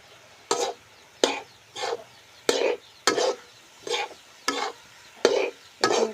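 A spoon stirs fish and colocasia frying in a pan with salt and turmeric, about nine distinct scraping stir strokes in a steady rhythm, each with a short sizzle, close and fairly loud with no talking.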